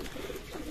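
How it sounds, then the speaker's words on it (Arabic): Domestic pigeons cooing on a rooftop, a soft, low continuous burble that holds steady and moderately close for under a second. "ده في حمام اصلا امن على الظهر"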